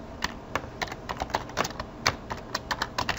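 Keys on a computer keyboard tapped in quick irregular bursts while text is entered into a graphics program, close and crisp with no voices.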